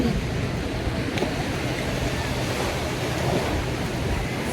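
Steady roar of Black Sea surf washing against a beach at Nessebar, Bulgaria, heavy with wind buffeting the microphone; continuous and fairly loud, with no clear breaks between waves.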